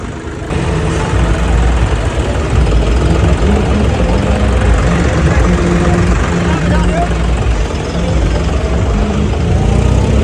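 Tractor engines rumble loudly and continuously at a farmers' tractor march against a land pooling policy, a low steady idling drone with voices talking over it.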